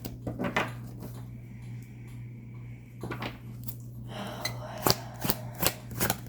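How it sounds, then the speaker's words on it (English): A tarot card deck is shuffled up close, with soft papery riffles and taps that come in short irregular bursts over a steady low hum. "So let's shuffle the deck once more."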